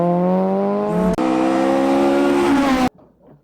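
A mouth imitation of a Toyota AE86 Trueno engine: a steady, loud buzzing drone that rises in pitch, breaks off briefly, then resumes climbing before cutting off abruptly.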